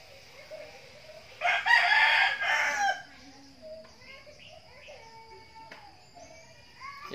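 A gamecock crows loudly once with a long drawn-out call, followed by quieter clucking and faint background chatter, in a rural Philippine setting.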